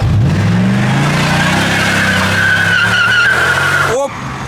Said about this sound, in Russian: Сейчас попробуем пожечь резину.